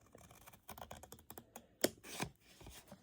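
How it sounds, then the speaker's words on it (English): Craft material is cut with quiet, close scissor snips, a handful of short crisp clicks and scrapes in an otherwise quiet room. "I'm going to cut this one off because we don't need it."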